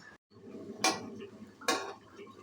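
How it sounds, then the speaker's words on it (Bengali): Two sharp metallic clanks ring out a moment apart as a lid is lifted off a pot of slow-cooked spiced meat curry, over a faint low kitchen background. "দেখো এবার আমি ঢাকনাটা খুলে দিচ্ছি বন্ধুরা"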